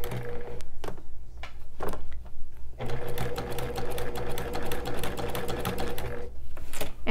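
Sewing machine quilting curved designs with a walking foot runs in fast, steady stitching bursts, close and clear, pausing briefly between runs, with no talking.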